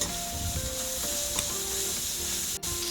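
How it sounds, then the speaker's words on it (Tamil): Crushed ginger-garlic paste sizzles with onions in a pan while making cauliflower and potato poriyal, a steady close frying hiss with faint tonal squeaks from stirring and a brief sharp scrape near the end. "அடுத்தது இடித்த இஞ்சி பூண்டு விழுது சேர்த்து நல்லா வதக்குங்க."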